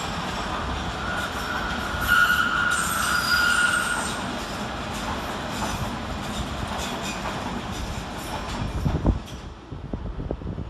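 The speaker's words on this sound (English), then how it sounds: "coming in the opposite direction, another S8 Tube Stock 21389 and 21390. with a Hammersmith and City Line service from Hammersmith to Barking" A London Underground S8 Tube Stock train on a Hammersmith and City Line service to Barking rumbles past at Paddington with loud squealing wheels and rattling carriages, continuous and fairly close, with no talk.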